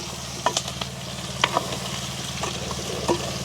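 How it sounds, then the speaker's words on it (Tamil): Moringa drumsticks are tossed and stirred in a frying pan with fenugreek in a village kitchen: a constant close sizzle, broken by four or so sharp scraping, clinking strokes of the spoon. "கழுவியெல்லாம் வச்சுருக்கிற முருக்கங்காயை போட்டுக்கொள்வோம் இப்படியே நல்ல வடிவாக கலந்து விடுவோம்"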